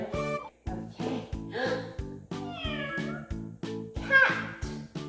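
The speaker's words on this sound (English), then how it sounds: "Cat." A cat meows repeatedly, a series of loud, close, evenly spaced mews in steady rhythm, some rising and bending in pitch.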